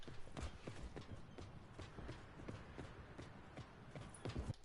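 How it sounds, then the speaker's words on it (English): Footsteps patter steadily behind the player in Call of Duty Black Ops Blackout, a faint, quick run of soft thuds over a low ambient bed, heard only from the rear. "those are the footsteps of my guy behind me because I don't hear them forward"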